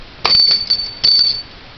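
Small bell on a secondhand toy bought at a yard sale rings in two bright metallic bursts, each with a sustained high ring that fades after roughly half a second, close and clear with no talk.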